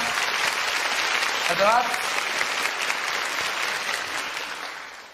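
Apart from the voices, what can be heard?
audience applause at a musical stage event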